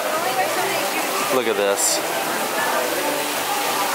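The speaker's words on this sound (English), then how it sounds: "I can already feel some of the rain." Heavy rain pours steadily through a storm, a dense broadband wash that holds at close, even loudness for the whole stretch while a person speaks briefly over it.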